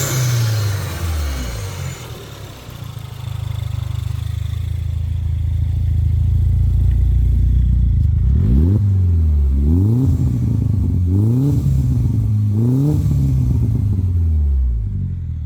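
Stage 1 R56 Mini Cooper John Cooper Works with a Cobra exhaust idling, then revved repeatedly in sharp blips that rise and fall, loud and close with no talking.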